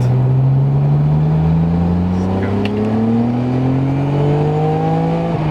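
A Nissan Skyline R33 GTR accelerating hard, its engine note climbing steadily and loud from inside the car, with a brief drop near the end as a gear changes.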